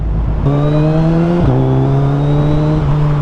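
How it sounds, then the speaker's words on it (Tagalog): A 2024 Suzuki Hayabusa motorcycle with dual exhaust holds a steady, loud engine tone while riding, the pitch rising then dropping at a gear change and settling into an even drone, with strong wind noise behind it. "hindi ko pa siya napailaw kasi sobrang lakas ng makina"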